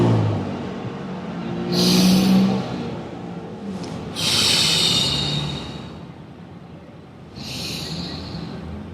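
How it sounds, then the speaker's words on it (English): Slow, deep human breaths drawn in and let out close to the microphone, three airy swells spaced a few seconds apart over a quiet background, with no talking. "just take another deep breath in"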